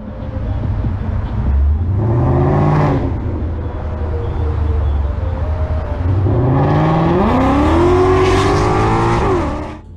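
A Ford Mustang fleeing police accelerates hard, its engine note climbing in two loud rising revs separated by a brief dip, close and dominant with no talk.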